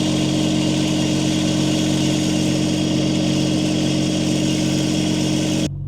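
A Wolfe Ridge 35 SHO box wedge log splitter's diesel engine runs steadily at a cold idle, a loud, even mechanical drone with no speech, cutting off abruptly near the end.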